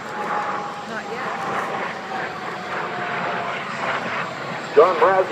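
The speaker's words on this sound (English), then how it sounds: "the two L-29 Delphins coming in from the right" Two Aero L-29 Delfin jet trainers approach at an airshow in Airdrie, Alberta, a steady distant engine roar building under crowd noise and commentary.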